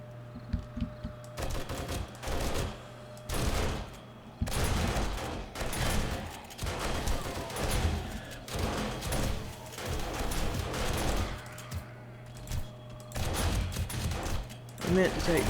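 Automated defenses in the video game 7 Days to Die fire repeatedly, heard as a string of sharp gunshot bursts and rapid volleys at irregular intervals over a low steady hum, with a player talking at times.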